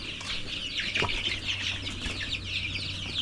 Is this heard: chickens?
yes